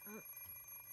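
Alarm clock ringing in Fate/stay night, a short electronic beeping burst at the start that quickly cuts off, followed by a faint low room hum.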